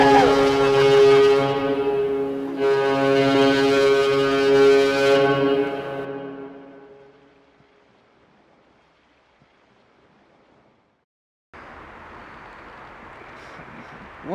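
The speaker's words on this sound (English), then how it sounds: "Honk your horn!" A boat's horn sounds out on the water in two long, loud, steady honks, then fades into a quiet stretch before a wash of surf noise takes over.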